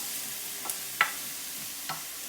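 Garlic and ginger are stirred into onions frying in a pan: a faint background sizzle broken by three brief, soft scrapes of a utensil, close by and with no talking.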